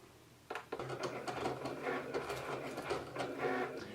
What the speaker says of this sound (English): And then the Cricut is going to cut my design.